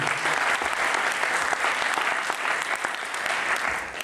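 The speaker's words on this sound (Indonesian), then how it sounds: "Kita beri tepuk tangan sekali lagi buat Tuhan" A church congregation at a conference session applauds in praise, dense sustained clapping from a large crowd, loud and continuous throughout.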